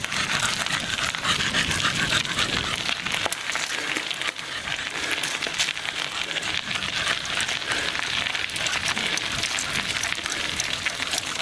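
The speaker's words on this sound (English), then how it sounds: "Don't know if you can hear the dog, but" A dog pants quickly and steadily right beside the microphone as it runs alongside a mountain bike on a night ride, with rustling and trail noise mixed in throughout.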